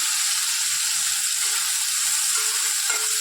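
Soaked chickpeas frying in hot oil in a pan, giving a bright, steady sizzle up close, broken only by a few soft stirring knocks.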